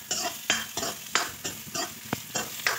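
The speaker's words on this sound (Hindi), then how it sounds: "अब हमारे को अपना ये प्याज हमारे को हल्का सा ब्राउन करके भूनना है" Onion, ginger and garlic are fried in hot oil in a pan and stirred: a soft, steady sizzle is broken by about a dozen rhythmic scraping strokes of a utensil, close and fairly quiet.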